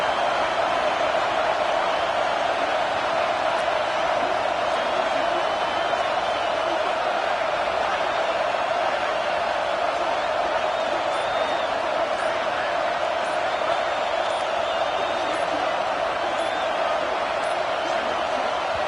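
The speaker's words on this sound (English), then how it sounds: "And this crowd is rising to the occasion." A stadium crowd in the NCAA 26 College Football video game, Alabama vs LSU, roars steadily and evenly throughout, a dense, loud wash of cheering under a commentator's voice.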